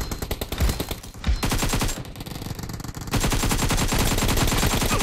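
Rapid automatic gunfire rattles almost without pause in the PUBG Mobile video game, dense bursts of loud shots with a brief lull before the firing resumes even more continuously.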